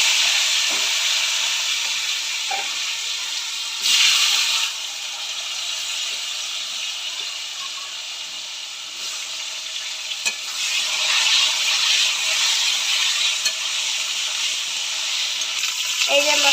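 Potatoes go into hot oil already spiced with cumin seeds and bay leaf for a fish curry, raising a steady, close sizzling hiss that swells louder at a few points and keeps crackling throughout.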